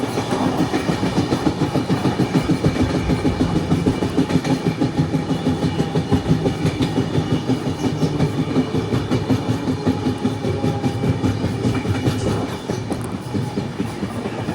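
The Yesvantpur to Sindhanur Express rumbles along the rails with a steady, loud clickety-clack of wheels over joints, continuous for the whole stretch and easing slightly near the end, with no talking.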